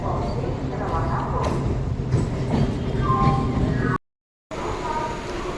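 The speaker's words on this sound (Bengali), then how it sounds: "ট্রেনটা আসছে হাওড়া থেকে ব্যান্ডেল" A Howrah–Bandel local train pulls into Bandel station with a steady rumble and clatter of rail cars and brief squeals. Station noise and voices run underneath, and the sound cuts out briefly near the end before the rumble resumes.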